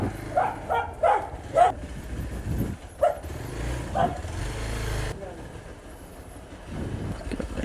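A dog barks in a narrow lane in Phalodi, India, giving several sharp, fairly close barks in a loose series while people talk nearby and faint street noise runs underneath.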